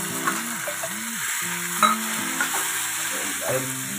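Three chopped tomatoes tip into a small hot kadhai and get stirred for chhole, bringing a steady close sizzle with spoon scrapes and a few sharper knocks against the pan.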